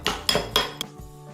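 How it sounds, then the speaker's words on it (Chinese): Century egg tofu with ginger, chili and seasonings stirred briskly in a bowl, giving a few clinking knocks of utensil against dish in quick succession, close and clear with no talk. "然后尽情的搅拌吧。"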